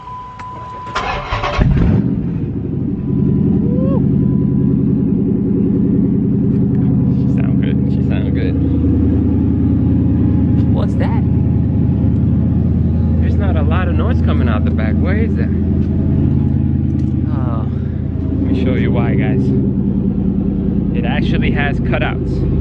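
A Dodge Challenger SRT8 with its exhaust cutouts open fires up and settles into a loud, steady, deep rumbling idle that holds throughout, with people talking over the engine.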